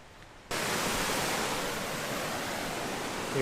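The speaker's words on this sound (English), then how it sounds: "Here we are at the first falls." After a brief quiet start, a waterfall on Kunanyi/Mt Wellington pumping hard with heavy flow cuts in abruptly as a loud, steady broadband rush of water, continuous and close.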